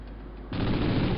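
Rapid automatic weapon fire from the PS1 shooter Medal of Honor Underground, bursting in abruptly after a quiet half-second and continuing as a dense, fast, low-fidelity rattle with no speech.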